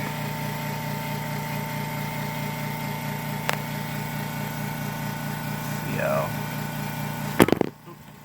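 An air compressor runs steadily, building pressure during a front shock and strut change on a 2008 Toyota Corolla, a constant humming drone with a couple of sharp clanks near the end before it cuts off.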